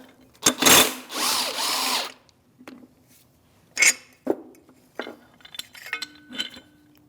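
A power tool with an 18 mm socket backs out a bushing-style lower engine mount bolt on a 2016-2025 Chevrolet Malibu 1.5L L4, giving a short burst then a steady whir of about a second, followed by scattered metallic clinks of parts and tools.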